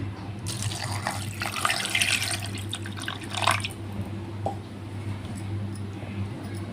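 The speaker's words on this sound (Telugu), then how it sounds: "అన్నిటిలో గ్లాస్ వాటర్ వేసుకోవాలి" Water poured into a cooking pot runs and splashes steadily for several seconds against a low steady hum, strongest early on, then trickles more quietly.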